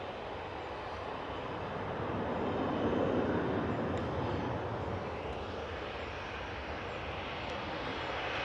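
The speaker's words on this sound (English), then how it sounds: "we just saw Ryanair depart to Dublin there with flight 553 EIHR" A Ryanair Boeing 737 Max 8 200 jet departs Manchester Airport, a steady broadband engine roar at middle distance that swells slightly in the middle and then holds, with no talk over it.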